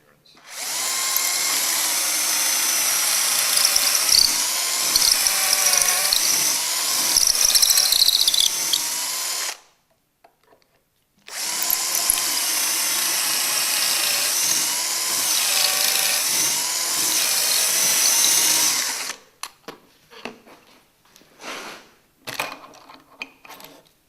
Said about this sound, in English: that's my 2 holes drilled now